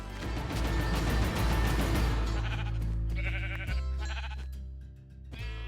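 Loud Minecraft sheep bleats sound over a dense game soundscape, with layered cries and a low rumble that thins out toward the end.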